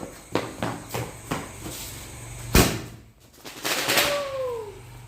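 A series of sharp, crackling pops bursts outdoors, one louder bang in the middle, followed by a faint falling whistle.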